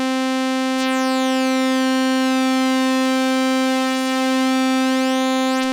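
Bright, buzzy sawtooth tone from an A-111-6 miniature synthesizer voice with pulse width applied, a single steady pitch held loud and unbroken for several seconds with no talking.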